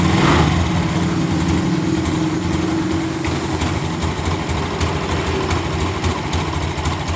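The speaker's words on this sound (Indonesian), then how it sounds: "Berebet seperti ini dan motor ini mengeluarkan asap putih" A 2023 Honda Genio scooter with a fault runs close by, its small engine revving unevenly and sputtering as the throttle is pulled, a steady rough drone with slight fluctuations throughout.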